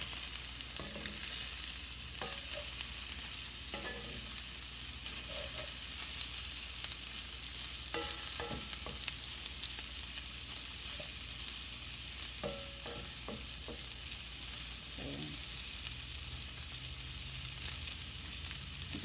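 Pork and sausage sizzle steadily in a pan over medium-low heat, seasoned with salt and black pepper, a constant close frying hiss broken by occasional stirring scrapes, with no talking.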